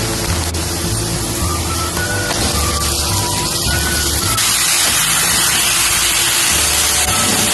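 Beetroot, onion and green chili sauté in hot oil, giving a steady loud hiss and sizzle that runs without a break, with faint clinks of a spoon stirring in the pan.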